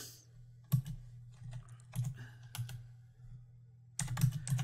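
Keys clack on a computer keyboard in short bursts of typing separated by pauses, close and fairly quiet, with faint room sound between.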